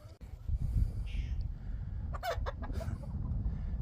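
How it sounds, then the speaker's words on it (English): Chickens being let out of their coop on a farm after stormy weather cluck softly and intermittently, a few short, faint calls over steady low background rumble. "let's let these chickens out"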